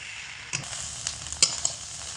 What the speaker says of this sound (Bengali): এইগুলোকে সব একসঙ্গে আরও তিন থেকে চার মিনিট মতো ভালো করে কষিয়ে নেব